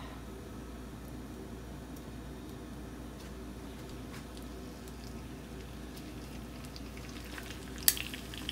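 Stuffed chicken fries in oil in a saucepan over medium-high heat, giving a soft, steady sizzle with faint crackles and one brief sharp clink near the end.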